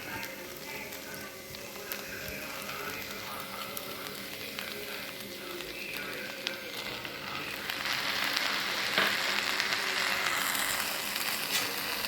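Onions and green chilies sauté in a hot pan for ladyfinger subji, a steady close sizzle that swells louder toward the end, with occasional stirring clinks and no talking.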